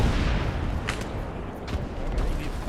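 Gunfire in the military shooter Arma 3, a loud crackle of distant shots over a heavy noisy rumble, with a few distinct reports scattered across the short stretch.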